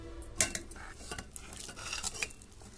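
A spoon scrapes and clinks inside a vessel while pearl millet porridge, kambu koozh, is stirred with salt, giving close, uneven metallic taps and swishes with one sharper clink early on.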